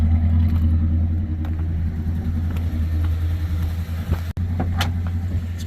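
A 1972 Plymouth Fury engine idles with a steady, low rumble and a faint clatter. It is close and stays even throughout, with only slight dips.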